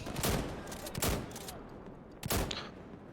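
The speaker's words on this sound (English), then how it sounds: "I hear the shot." Gunshots in the video game Insurgency Sandstorm, three sharp bursts of gunfire spaced about a second apart with a faint background between them.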